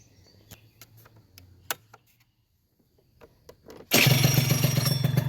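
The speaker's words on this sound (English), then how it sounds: "It's amazing how it just fires right up like that." A Honda Elite scooter fitted with a Polini Corsa kit engine fires up after a few faint clicks and cranking attempts, then settles into a loud, steady, close-up idle.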